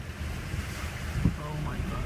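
Flood water running through a residential street, a steady broad wash of moving water and wind noise, with a brief knock midway and a faint voice in the background.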